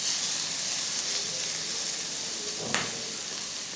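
Steady sizzling and crackling from a hot pan as capsicum and egg sauté over high heat, continuous and close, with a brief clatter near the end.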